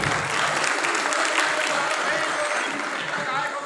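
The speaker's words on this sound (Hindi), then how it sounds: "कम से कम तालियां तो बजाएं।" Sustained, dense audience applause filling a hall at a Chhollywood film award ceremony in Raipur, even and loud from start to finish with a slight tail-off.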